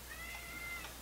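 A single drawn-out cat meow, faint and thin, rises over a quiet background hum with no one speaking.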